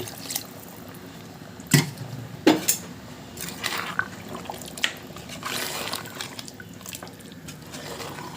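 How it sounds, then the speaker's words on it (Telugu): Water poured into a pressure cooker over mutton pieces, with soft splashes, a few sharp clinks of metal and gentle liquid sounds, close by and fairly quiet. "ఇప్పుడు ముక్కలు మునిగే వరకు వాటర్ని పోసుకోవాలి"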